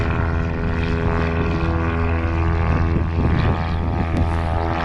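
Propeller training aircraft flying touch-and-go circuits near a harbor, its engine drone loud and steady throughout, a continuous throbbing hum close by.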